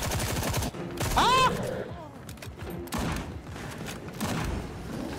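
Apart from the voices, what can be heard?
hunting rifle gunshots in video game Sker Ritual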